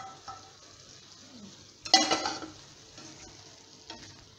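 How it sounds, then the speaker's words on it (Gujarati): A tomato, onion and garlic gravy goes into a hot pan of mixed vegetables with a sudden burst of sizzling, then a spoon scrapes and stirs as the frying settles into a softer hiss, close by with no talk. "ટામેટા ડુંગળી લસણ એની આપણે આ ગ્રેવી આમાં નાખી દઈશું."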